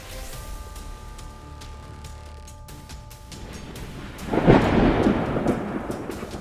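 A thunderstorm over Mexico's Yucatan Peninsula, with rain hissing steadily before a deep, rolling thunderclap swells loud midway and rumbles on to the end.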